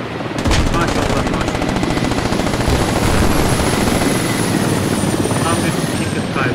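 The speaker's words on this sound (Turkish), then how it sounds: "Helikopter indirme yapıyor." A helicopter comes in to land in the video game Squad, its rapid rotor chop thudding loudly under dense, continuous machine-gun fire and a high whine, with a voice faintly present.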